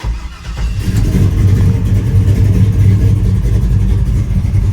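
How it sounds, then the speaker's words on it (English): 1986 GMC Sierra with an LS-swapped V8 cranking and catching, then settling into a loud, deep, rumbling idle close by, a freshly built engine running steadily. "Crank it up and give y'all a sound check over right quick."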